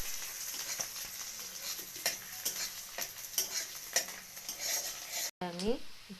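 Chopped garlic, ginger and onion fry in butter for chicken soup, a soft continuous sizzle under regular stirring scrapes and taps of a spoon against the pan, ending with a brief clatter.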